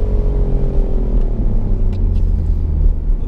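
A BMW i8 Roadster hybrid supercar gives a steady, deep, throaty engine rumble heard from inside the car while driving, continuous and fairly loud with no talking.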